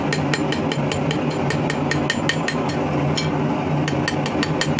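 Hammer striking a chisel to texture the face of a hot metal warhammer, a fast steady series of sharp metallic taps, close and loud over a constant background hum.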